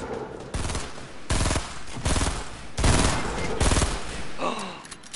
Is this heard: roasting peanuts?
no